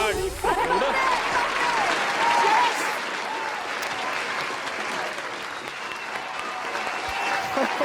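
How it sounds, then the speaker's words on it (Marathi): An audience at an awards ceremony applauds loudly for a best comedy actor winner, a dense, sustained burst of clapping that fills the room while a host's voice carries over it. "जोरदार टाळ्या समीर चौघुले यांच्यासाठी."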